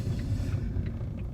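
Steady low rumble from inside a moving Mazda3 being driven, a continuous engine and road drone with no breaks over a short stretch.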